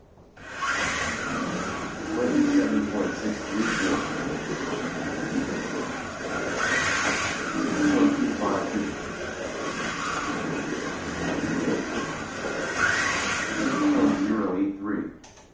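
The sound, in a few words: vintage Monogram 1/24 Chaparral and Ferrari slot car running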